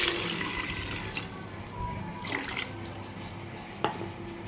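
Tamarind water is poured into a cooking pot of simmering pappu charu, giving a soft, continuous splashing pour with a few small drips and clinks, moderately quiet and with no voices.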